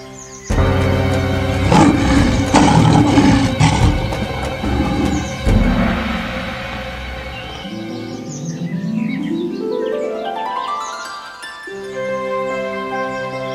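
A lion roars loudly in a French fairy tale about a lion and a lamb, a long, rough roar heard alone, with bird-like chirps and rising tones following.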